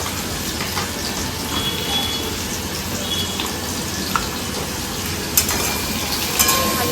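Spices and banana flower fry in a pan, giving a dense, steady sizzle that fills the whole stretch, with a couple of faint clinks and taps on top.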